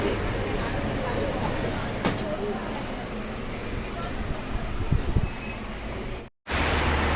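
Steady interior rumble inside a 2-tier coach of the Hussain Sagar Express on Indian Railways, with faint rattles and a brief dropout near the end; a voice talks over the continuous train noise.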